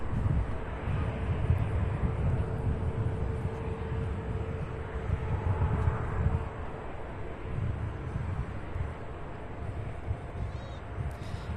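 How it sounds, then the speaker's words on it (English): A 22-year-old Delta Boeing 737-800 jet airliner at Cincinnati's CVG airport gives off a broad, steady rumbling roar at a distance, with wind buffeting the microphone throughout. "that Delta flight is Delta 1008 heading to Atlanta in a 22-year-old Boeing 737-800."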